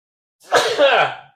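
A single sharp sneeze bursts out close to the mic, loud and abrupt, with a short breathy tail, alone without talk.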